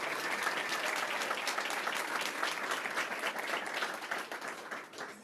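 An audience at an entrepreneurs' demo day event bursts into sustained applause, dense clapping that holds steady and then begins to fade near the end.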